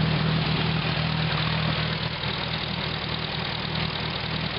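A WWII-era Hobart Brothers generator with a Hercules engine runs steadily up close, a loud, even mechanical drone with a low hum and faint knocking that drops slightly in level partway through.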